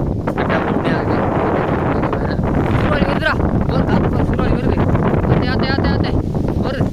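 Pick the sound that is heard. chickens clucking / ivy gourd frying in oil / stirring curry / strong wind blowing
strong wind blowing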